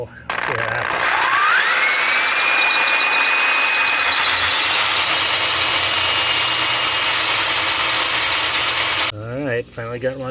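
A large bit drilling a full-size hole for a hot tub cover lifter install, the motor whining upward as it spins up, then grinding loudly and steadily for several seconds before stopping, with a voice briefly after.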